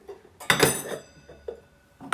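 A small oven-safe cooking pot bought at a Swiss second-hand market is handled, giving a clanking metallic knock followed by a few lighter taps and clinks, close and fairly quiet.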